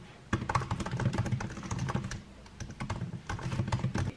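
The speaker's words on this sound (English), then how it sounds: "I am finding touch typing really, really hard to do because I just have really stiff fingers" Fast touch typing on a computer keyboard, a dense close patter of key clicks in quick bursts with a brief pause midway, no voices.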